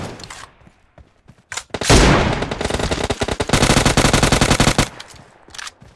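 Rapid automatic gunfire from a PUBG Mobile match cracks out in dense, loud bursts, with a sustained volley in the middle and a shorter one near the end, between brief quieter gaps.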